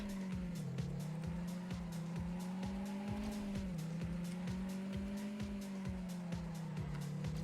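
A car in the racing video game TrackMania Sunrise drones with a steady, sustained engine tone, shifting slightly in pitch, while rapid regular ticking and tire squeal run underneath throughout.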